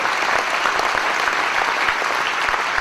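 Dense, continuous applause from a large crowd at a political rally in Bazas, loud and sustained for the whole stretch with no pauses.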